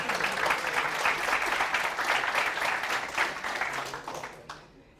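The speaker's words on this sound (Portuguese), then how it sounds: "Palmas para o Tino Gomes aí." Sustained clapping from a small audience fills the space steadily, then tapers off and fades near the end.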